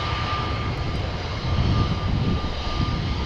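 A320neo airliner taxiing at Amsterdam Schiphol Airport, its engines giving a steady, loud broadband roar with a faint constant whine, swelling slightly midway.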